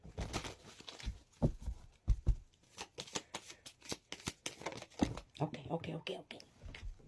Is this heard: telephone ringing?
no